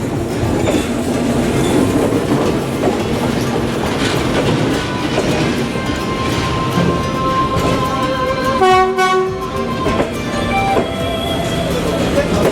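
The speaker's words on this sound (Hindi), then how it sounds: "और देखिए सामने से ट्रेन आ रही है।" A train rolls slowly through the narrow Train Street in Hanoi's Old Quarter, a loud steady rumble and clatter of railcars passing close by, with a horn blast near the end and crowd voices underneath.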